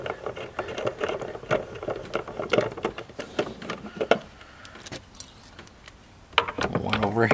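A wrench works on the battery hold-down brackets of a C7 Corvette, producing close metallic clicks, ticks and ratcheting taps in uneven bursts, with someone talking over parts of it.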